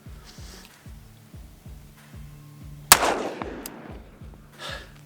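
A Smith & Wesson 686 Competition revolver fires a single .357 round one-handed. The one sharp, loud report trails into a brief echo over a rhythmic mechanical chugging background.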